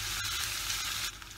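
Onion and capsicum masala frying in a pan, a dense, close sizzle that holds steady and then softens slightly near the end, with no voices.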